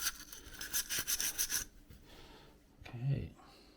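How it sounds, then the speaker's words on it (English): Rust is scrubbed off a vintage coffee grinder in a quick, rhythmic run of rubbing strokes, close and fairly quiet. The scrubbing fades into softer handling noises and a brief low scrape. "maybe we can do another treatment on that and just keep scrubbing"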